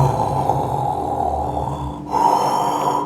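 A voice imitates a wolf snoring while reading a Little Red Riding Hood story aloud: a long, rough, droning snore with a brief break, then a second, louder snoring breath.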